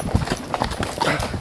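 Horse hooves clip-clop briskly on a countryside trail ride, a quick, uneven run of close, loud hoof beats with a faint voice in the background.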